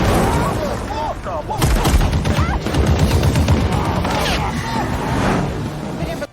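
Movie action scene of Yakuza gunmen firing from a helicopter: loud, dense gunfire and crashing impacts over engine roar, constant and chaotic throughout.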